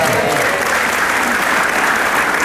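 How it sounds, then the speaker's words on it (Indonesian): A television talk-show studio audience applauds in a continuous, loud and even roar of clapping that fills the whole stretch, with no voices standing out. "Lu bisa banget tepuk tangannya pengang tau."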